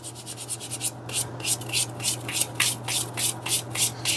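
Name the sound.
sanding leather edges with 400 grit sandpaper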